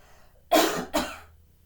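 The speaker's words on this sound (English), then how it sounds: "might take a little cough." Two close coughs in a row, the first stronger, the second trailing off into breath.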